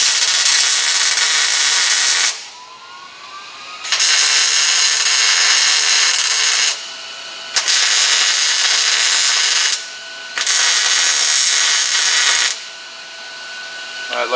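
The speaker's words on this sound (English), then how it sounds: "Get the welder around." Welding on the steering brake of a VW Baja Bug build, heard as loud, steady hissing bursts of arc welding that run for a few seconds each, broken by short pauses, with no talk over them.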